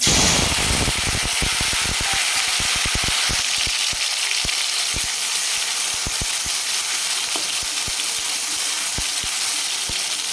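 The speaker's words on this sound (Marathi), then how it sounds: "तेल छान गरम झाल्यानंतर आपण याच्यामध्ये जिरे टाकणार आहे याच्यानंतर टोमॅटो टाकू" Cumin seeds and tomato dropped into hot oil give a loud, close, continuous sizzle, peppered with sharp crackling pops and spatters that gradually thin out over ten seconds, with no talking.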